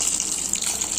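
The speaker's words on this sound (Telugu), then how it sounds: "ఇవి కొంచెం మునిగేంత వరకు వాటర్ పోసుకోవాలి" Water pours steadily into a pressure cooker over snack ingredients to cover them, a continuous close splashing gush lasting the whole moment with no talk.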